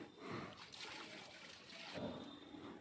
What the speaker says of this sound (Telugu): మా అత్త ఇంకా రోలు కడిగేస్తుంది